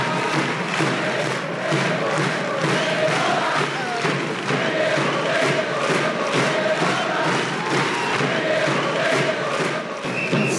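Dense crowd noise fills a university assembly hall in Córdoba, steady and loud throughout, with cheering, shouted vivas and chanting blending into a continuous roar as an architect arrives.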